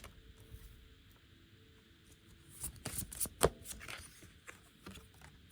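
Deck of In the Shadows oracle cards being shuffled, a short cluster of quiet riffling and flicking slaps after a few seconds of faint hum, close by and without talk.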